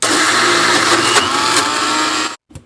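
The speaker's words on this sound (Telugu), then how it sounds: "ఒక్కసారి ఇలా మిక్సీని గ్రైండ్ చేసుకుందాము" A kitchen mixer grinder whirring loud and close as it grinds dry lentils with no water, a steady motor roar that cuts off abruptly near the end, followed by a brief clunk.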